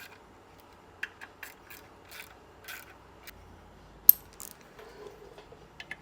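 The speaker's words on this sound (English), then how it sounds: "we're just going to work our fasteners in and work ourselves around gradually, bring it in evenly" Clutch fasteners on a Ferrari F430 being run in with a hand ratchet, giving sparse, quiet metallic clicks and ticks spaced irregularly, with one sharper clink, close by in a quiet garage and no talk.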